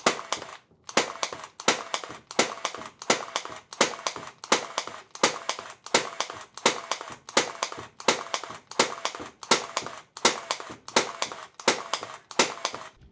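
A Milwaukee M12 23-gauge pin nailer fires rapidly, about twenty sharp snapping shots in a steady, even rhythm, each one a crisp close crack with brief quiet gaps between.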